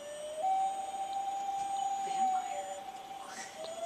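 A common loon gives a long, eerie, wavering wail, a single sustained call that rises slightly at the end, heard faintly at a distance over quiet background.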